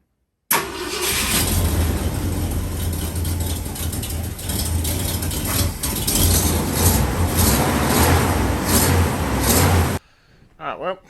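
A vehicle engine cranks, then catches and runs steadily after fuel system repair with new hose clamps, a loud close rumble that settles into a continuous idle for about nine seconds before cutting off, a voice heard briefly at the end.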